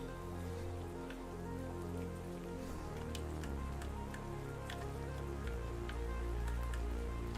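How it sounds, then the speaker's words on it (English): Rain falling in the video game Ark Survival Ascended, a steady patter of drops on surfaces with occasional sharper taps, continuous and moderately close under a low ambient hum. "It's rained quite a bit tonight in the game."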